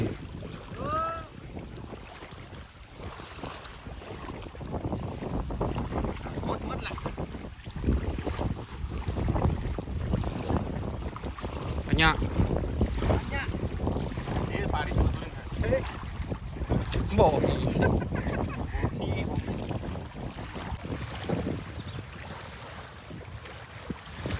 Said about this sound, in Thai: เริ่มลมแรงแล้ว